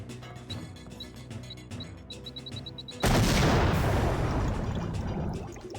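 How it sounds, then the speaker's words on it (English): A big explosion in the Deus Ex video game erupts suddenly after faint clicks and beeps, a loud, close blast whose rumbling roar decays slowly over several seconds. "That was a big explosion"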